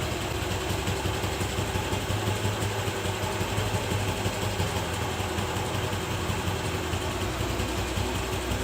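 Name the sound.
TVS Jupiter scooter engine idling at lowest RPM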